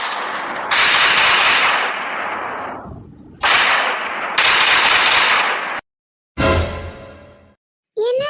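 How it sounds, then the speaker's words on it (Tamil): Bursts of gunfire heard from a drama scene, loud broadband blasts in several long volleys separated by short gaps, one ending in a sharp decaying crack, with no talk over them. "கன் சவுண்டா கேக்குது."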